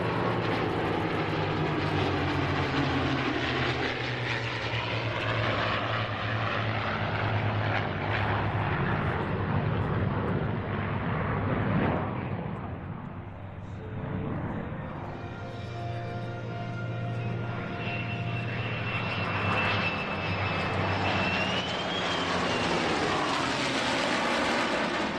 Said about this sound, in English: We saw the F-35 demo team arriving with a trio of P-51s at the start of the programme.